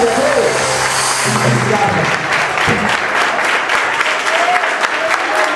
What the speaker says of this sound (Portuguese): Toda a igreja aplaude e glorifica ao nome de Jesus